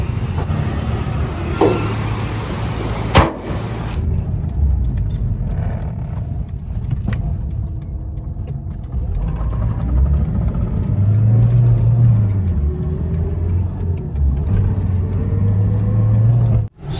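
A car drives along and is brought to a stop to park, its engine rumbling steadily near the cabin, with a short revving rise midway and faint clicks before it cuts out at the end.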